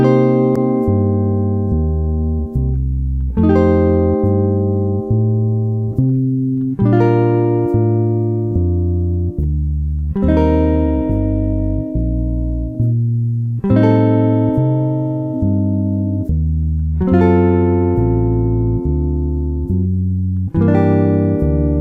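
Jazz guitar chords ring out in a progression over a jazz standard, each chord struck and left to sustain, changing roughly every one to two seconds, loud, clean and close with no talking.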